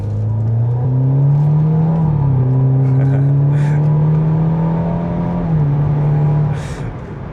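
An Audi pulls away and accelerates, its engine note rising strongly and holding as the car gathers speed, loud and close from inside the cabin, with brief gear-change dips in pitch and no talking.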